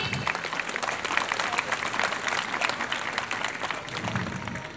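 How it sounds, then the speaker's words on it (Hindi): Steady audience applause at an outdoor civic gathering on a school ground in Dadra and Nagar Haveli, a full continuous wash of clapping from a large crowd at moderate loudness. "आपकी सराहना तालियों के माध्यम से हम तक आती रहे।"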